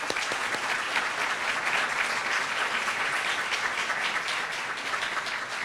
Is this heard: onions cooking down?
no